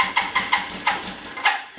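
Kawasaki Ninja motorcycle engine under restoration being cranked with some throttle: a rhythmic series of chugging pulses, about six in under two seconds, fairly close and moderately loud, trailing off without settling into a steady idle.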